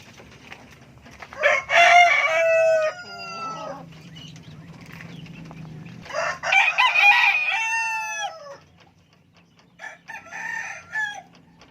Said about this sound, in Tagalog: Ayan yung mga babaeng mga manok natin mga kalapakpak.